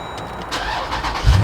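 An engine cranks and catches, rising to a deep rumble at the end; brief and close, with no voices. The engine is the V8 of a Jeep Grand Cherokee SRT with 78,000 miles.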